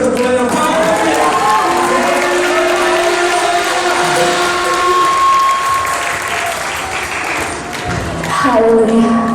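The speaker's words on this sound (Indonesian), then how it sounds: "beri tepuk tangan yang paling meriah" Loud, sustained applause and cheering from a large church crowd at a Sukkot gathering in Magelang, with sung or held tones carrying over the clapping throughout.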